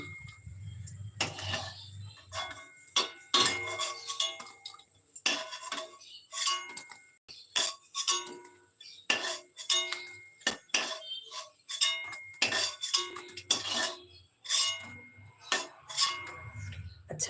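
Metal utensils clink and scrape against a frying pan as fried crabs are lifted out one by one, a busy run of close, sharp taps and rattles in a home kitchen with no talk over it.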